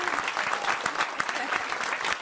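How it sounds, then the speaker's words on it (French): A French studio audience in a radio-TV show set clapping together, a dense, even burst of applause lasting a couple of seconds, loud and close with some voices mixed in. "On peut applaudir les nouvelles Parisiennes."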